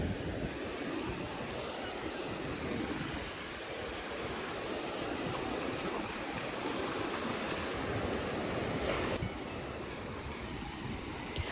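Shallow surf washes onto the shore at Sauble Beach in Canada, a soft, continuous rush of breaking water heard at a distance and fairly quiet, with no talk over it.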